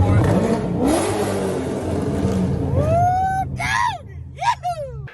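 A Chevrolet C6 Corvette engine revs under a bridge, loud and close, with a swelling roar that rises in pitch, mixed with voices talking and echoing off the underpass.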